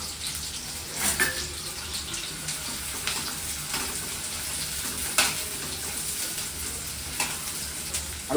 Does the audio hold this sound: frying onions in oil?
yes